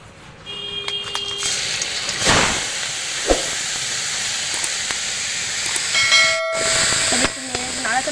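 Carrot halwa (gajar ka halwa) frying slowly over medium heat in a pan gives a steady close hiss and sizzle, with a few brief clatters and thin ringing tones along the way.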